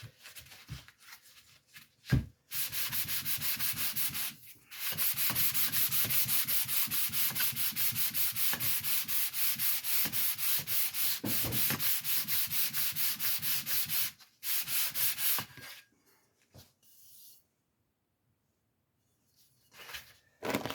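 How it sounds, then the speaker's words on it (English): Steady, rhythmic back-and-forth scraping of hand sanding on a flat metal surface of a guitar-building tool, close and loud, with a few short pauses and knocks between strokes. "sanding of the metal."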